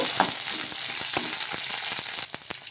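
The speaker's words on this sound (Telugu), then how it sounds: "కారానికి తగ్గట్టు పచ్చిమిర్చి వేసేసుకోవాలి అలాగే ఇందులోకి కొంచెం కరివేపాకు వేసుకొని ఇవి కొంచెం బాగా మగ్గించుకోవాలి" Green chillies and curry leaves sauté in a pan, giving a steady close sizzle of frying with a few light stirring scrapes and crackles; no one speaks.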